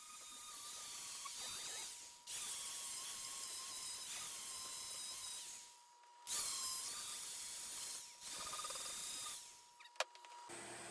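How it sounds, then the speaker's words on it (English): A power tool fitted with flat sanding discs slowly smooths a carved art piece made from reclaimed materials, giving a steady close whirring grind in long bursts separated by short pauses, with no talking. "I started off with a carving disc, but that proved to be too aggressive, so I switched to some flat discs and slowly sanded away"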